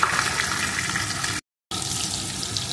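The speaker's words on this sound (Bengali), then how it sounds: "ভাজা মাথাগুলো তুলে নিয়ে এখন মাছের পিসগুলো আমি দিয়ে দিয়েছি, এগুলো আমি লাল লাল করে ভেজে নেব।" Katla fish pieces frying in hot oil in a pan, a steady close sizzling hiss that runs on with one short break of silence partway through.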